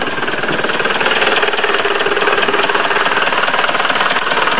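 A Ford Transit Mk 6 van's diesel engine runs steadily nearby, a rough, rattling idle with a constant knocking texture and no voices over it.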